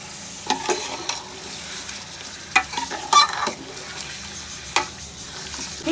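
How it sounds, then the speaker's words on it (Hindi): Mutton shank meat for nihari sizzles and crackles in a hot pot while a spoon scrapes and stirs, with sharp clinks standing out against a steady frying hiss. "ये देखिए गोश्त अच्छी तरह भुन रहा है"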